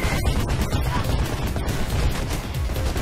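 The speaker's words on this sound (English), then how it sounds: "And still under fire." Rapid gunfire in the video game Mirror's Edge, a loud, dense stretch of overlapping shots and bursts crackling continuously without pause for several seconds.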